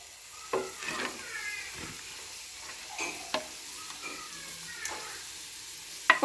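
Chopped carrot, capsicum, green onion, cabbage and green chili sauté in a pan under a soft sizzle, with occasional scraping stirs and light clinks, close by and fairly quiet.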